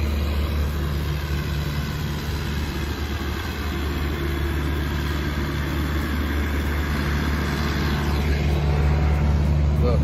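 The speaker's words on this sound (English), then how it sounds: "There go the truck." A Gordon Food Service delivery truck idles close by, putting out a steady, continuous low engine hum with a droning rumble that holds unchanged throughout.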